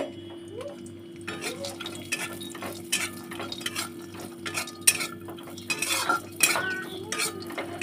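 Cashews and raisins roast in ghee in a wok, with a spoon clinking and scraping against the metal in irregular bursts over a low steady hum.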